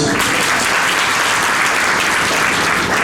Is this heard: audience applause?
yes